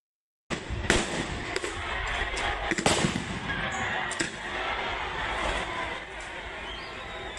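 Tear gas canisters fired at protesters outside a police station, a series of sharp bangs and pops with crowd noise running beneath throughout, with louder blasts near the start and middle.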